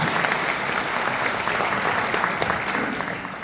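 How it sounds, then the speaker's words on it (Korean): Steady audience applause at a political seminar in a hotel hall welcoming a speaker, a moderate, even roll of many hands clapping heard from some distance throughout. "여러분 박수로 환영해 주시면 참 좋겠습니다"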